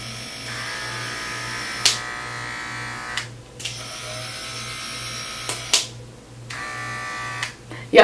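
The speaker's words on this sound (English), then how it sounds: "It doesn't sound any louder with the actual blade on." A Wahl cordless hair clipper hums steadily up close, with a few clicks and handling bumps breaking into the buzz.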